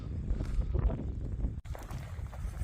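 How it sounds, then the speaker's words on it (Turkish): Gusty, chilly mountain wind on the slopes of Kızlarsivrisi Mountain near Elmalı, Antalya, buffets the microphone in low rumbling bursts, rising and falling, with a brief dropout midway. "Şu anda üşüten bir rüzgar var."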